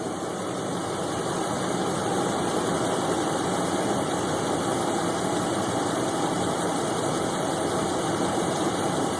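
A CNG-fueled V8 engine idles steadily during calibration, a continuous loud rumble with a slightly uneven, struggling tone that holds throughout without pauses.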